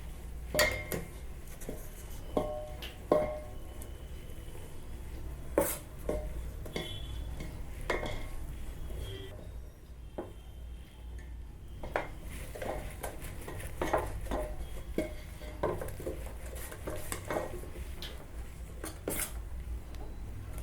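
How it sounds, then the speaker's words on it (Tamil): Rice flour being stirred little by little into a mixture for adhirasam, a Diwali sweet: a spoon repeatedly clinks and scrapes against the vessel in irregular taps over a low steady background, with no talk. "கொஞ்சம் கொஞ்சமாக சேர்த்து கட்டி இல்லாமல் மிக்ஸ் பண்ணிக்கிட்டே இருங்க"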